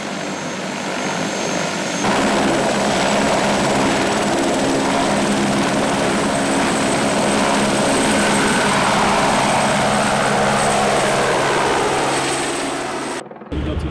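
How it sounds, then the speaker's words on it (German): Airbus AS350 (H125) helicopter, a French-designed type built for external-load work, flying nearby with a steady, loud rotor and turbine roar throughout, cutting off briefly at the very end. "ein französisches Muster AS350. Beziehungsweise auf Neudeutsch H125, weil das Ganze jetzt zu Airbus gehört."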